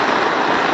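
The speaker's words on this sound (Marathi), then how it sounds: "पाऊस मित्रांनो आलाय ना पाऊस." Heavy rain falls at night during prawn fishing with a shore net, a dense, continuous hiss that fills the whole brief moment.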